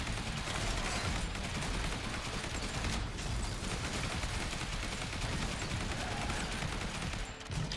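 Shotgun blasts and other weapons fire nonstop during a zombie horde fight in the game Yet Another Zombie Survivors, a dense, steady wall of gunfire with no voices.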